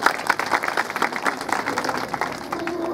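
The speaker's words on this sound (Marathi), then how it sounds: "एक वेळ आपण आपल्यांसाठी टाळ्या वाजू" Audience at an event applauding, a dense, fairly close patter of many hands clapping that holds steady and eases slightly toward the end.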